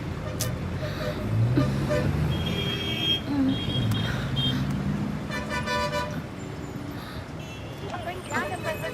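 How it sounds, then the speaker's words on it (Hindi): Busy road traffic with several car horns honking, steady engine and street noise running throughout and brief horn toots rising above it, with murmuring voices in the background. "ट्रैफिक।"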